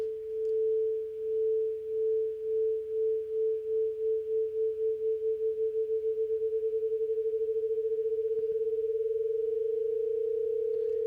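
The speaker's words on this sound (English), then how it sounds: "we're getting that beating effect to occur because our pitches are so close" Two nearly identical sine tones from a frequency shifter in Bitwig Studio pulse against each other, the beating starting slow and steadily speeding up into a rapid warble over a sustained, clean tone, alone and fairly soft.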